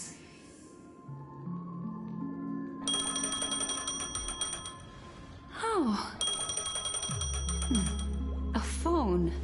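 A phone rings in the video game Honkai Star Rail, a bright electronic ringing that starts partway through and repeats over game music, with a brief spoken exclamation.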